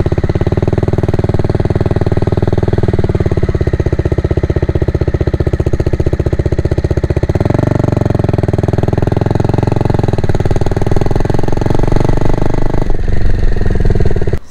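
Modified BS6 Bajaj Dominar 400 motorcycle with an aftermarket exhaust running steadily, a loud, continuous engine and exhaust drone close to the microphone, with a shift in pitch partway through and again near the end.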